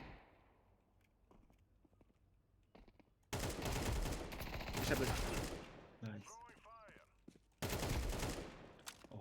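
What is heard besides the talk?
gunfire in video game Counter-Strike 2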